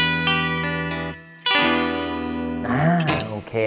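Cort Classic TC electric guitar played through a clean tone, with sustained ringing chords and single notes, a pause, then a strummed phrase and a brief bend, loud and close.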